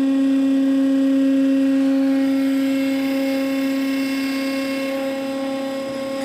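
Router spindle on a DIY CNC machine spinning steadily, a loud sustained high-pitched whine with a constant tone, close and alone, fading slightly toward the end.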